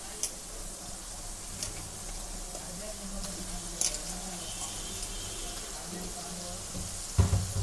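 Prawns frying with onions and spices in a pan for a Bengali prawn bhuna, a steady soft sizzle with a few stirring clicks and knocks near the end, close by and fairly quiet.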